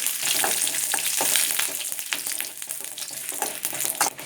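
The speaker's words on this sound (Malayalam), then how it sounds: "ഞാൻ ഫസ്റ്റ് തന്നെ ഈ മുളകൊക്കെ ഒന്ന് വറുത്തെടുക്കാം" Mustard seeds, curry leaves and chillies fry in hot coconut oil close by, giving a busy crackling sizzle with frequent sharp pops and spits.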